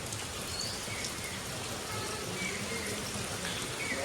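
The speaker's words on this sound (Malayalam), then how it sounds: "ഇപ്പൊ കുറച്ച് കുറഞ്ഞിട്ടുണ്ട് പക്ഷെ എന്നാലും നല്ല മഴയാണ്" Heavy monsoon rain pours down outdoors near a house, a steady, dense hiss of drops hitting surfaces and foliage. It holds at an even level throughout with no voices.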